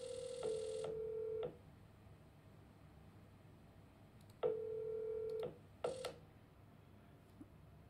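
A FreeSWITCH bridged call to extension 1000 produces steady electronic telephone ring tones in clear repeated bursts, one long pulse, a pause of about three seconds, then another long pulse and a brief fragment, alone over faint line hiss.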